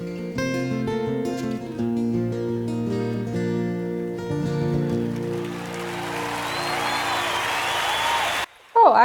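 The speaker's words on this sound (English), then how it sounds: "I think the rest is clapping" Audience applause at a concert in Central Park: a broad wash of clapping builds beneath sustained music and grows fuller toward the end before cutting off abruptly.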